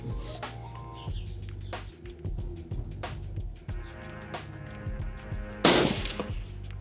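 Rifle shots fired at a distant long-range target on an open range, a few sharp loud cracks ringing out over steady background hum, one especially strong blast near the end.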